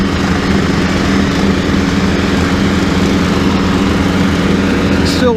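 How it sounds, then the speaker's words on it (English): A Woods XT172 riding lawn tractor mows grass around a barn in a horse lot, its engine droning loud and steady at close range throughout with no breaks. "I'm just mowing out around the barn."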